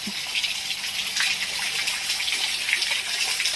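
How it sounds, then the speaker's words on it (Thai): A garden water fountain splashes continuously nearby, a steady bright rushing gush with no break. "โอ้โห น้ำพุน้ำพุ"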